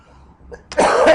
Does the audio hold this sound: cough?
yes